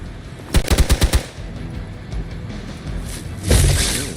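Gunfire in the video game Marvel's Midnight Suns sounds as a quick burst of about six loud, evenly spaced shots, followed after a pause by a heavier blast.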